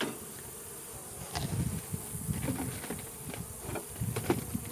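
Honey bees buzz steadily around an opened hive during an inspection for Varroa mites, a close, continuous droning hum with soft knocks and handling noises of the hive box beneath it.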